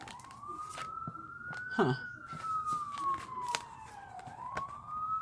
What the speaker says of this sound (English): You hear the sirens behind me? They're very loud, and my window is closed.